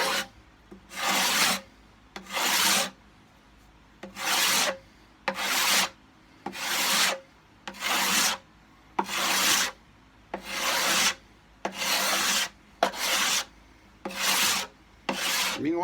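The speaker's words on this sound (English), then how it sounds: "Okay, so now, watch, this is my guitar, and I just scrape it." A cabinet scraper pulls excess finish off a guitar body in about twelve steady, evenly spaced rasping strokes, each roughly half a second to a second long, close and fairly loud with short quiet gaps between.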